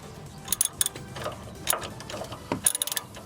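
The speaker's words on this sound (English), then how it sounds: "we need to put the socket and the ratchet" A socket ratchet works the nut on a HUMMER H2 front bump stop, giving short bursts of close metallic clicking and ratcheting separated by brief pauses.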